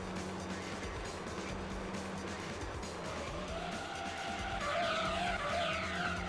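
A tuned TT race car drifts through a corner in Gran Turismo 3, engine droning steadily before a rising, wavering tire squeal breaks out near the end and holds loudly.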